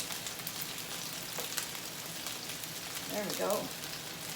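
Chicken skin sizzling in a hot pan while being flipped, a steady crackling fry with a brief louder burst near the end as a voice speaks briefly.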